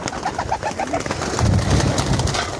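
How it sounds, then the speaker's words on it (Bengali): Pigeons coo in a low, repeated rhythm close by at feeding time on a desert farm in Dubai, with a denser, louder burst of cooing and fluttering in the second half. "কবুতর পাগল হয়ে গেছে রে"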